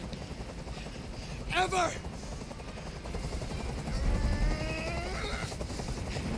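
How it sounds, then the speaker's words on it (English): Helicopter in Detroit: Become Human passing close overhead, its rotor thumping through a steady wash of noise, while a voice speaks briefly over it. "Tell that helicopter to get out of here."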